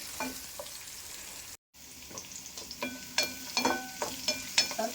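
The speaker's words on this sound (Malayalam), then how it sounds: "ഫസ്റ്റ് വെളുത്തുള്ളി എടുത്ത് വഴറ്റി അതിലേക്ക് കുറച്ച് ക്യാപ്സിക്കം കൂടി ഇട്ട് കൊടുത്തു." Garlic and capsicum sauté in a pan with a steady low sizzle, broken by a brief gap, then sharper clinks and scrapes of stirring that grow busier toward the end, with no voices.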